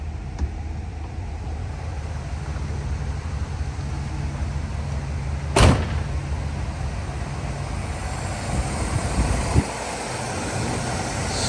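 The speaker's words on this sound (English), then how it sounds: "Smooth running 301 V8." A 301 V8 car engine settles at low idle, running smooth and steady with an even low rumble close to the microphone, broken by one sharp brief knock midway.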